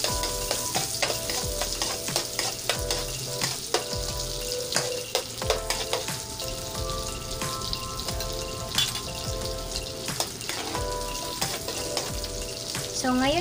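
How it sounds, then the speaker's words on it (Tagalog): Garlic frying in melted butter in a pan for a spicy seafood dish, with a steady close sizzle, repeated stirring clinks and a brief running-water sound. "natutunaw na po yung ating butter, lalagyan ko na po siya ng kaunting garlic"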